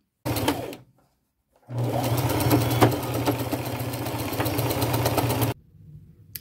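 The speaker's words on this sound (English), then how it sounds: "Now I'm just going to go to my machine and I'm just going to use a straight stitch and sew those on." A domestic sewing machine runs a straight stitch through fabric scraps for an upcycled headband: a short burst, a pause, then a steady, close whirring run of several seconds that stops abruptly.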